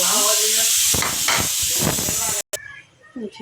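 Leafy greens dropped into hot oil, a loud hissing sizzle with bursts of spitting and crackle, briefly cut to silence near the end before fainter sizzling returns.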